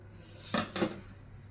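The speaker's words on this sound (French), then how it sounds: "Je vais venir couper ici donc le surplus de ma valeur de couture côté dos de 5 mm" Scissors trim the excess seam allowance from a sewn fabric bib, two quick, soft, close snips about a quarter second apart in an otherwise quiet room.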